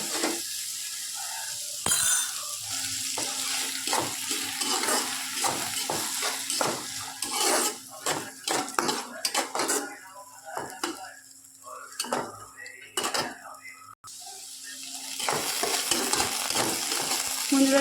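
Lentils fry in a pan with a continuous sizzle, broken by repeated scraping and clinking strokes of a spoon stirring against the metal, close by and without talk.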